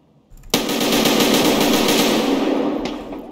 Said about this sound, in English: I shot him a couple times.